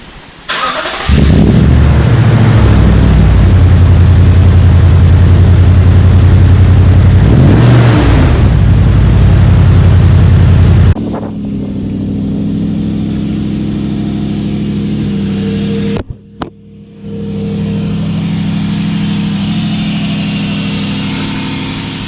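A Toyota Tundra 4.6 liter V8 with a TRD exhaust cranks and fires, then idles loud and deep and close up before pulling away. The drone continues more muffled while driving, with a brief dropout partway through.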